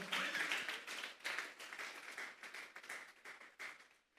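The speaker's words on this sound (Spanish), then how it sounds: "Denle esa ofrenda de palmas a Dios en esta hora." A church congregation claps together in worship, a dense burst of many hands that swells and fades in waves for a few seconds, heard at a moderate distance with no talking.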